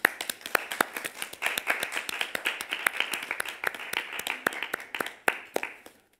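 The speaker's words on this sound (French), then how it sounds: "j'aimerais juste, pour finir, que tout le monde vous applaudisse très très fort." Sparse, moderate clapping from a modest audience at a school mentoring program event, individual hand claps clearly separated and irregular, continuing steadily for several seconds and fading at the end.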